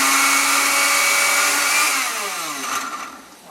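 A blender grinds food ingredients for Igbo cooking with a loud, close motor whine that holds steady and then winds down as it is switched off, with no talking.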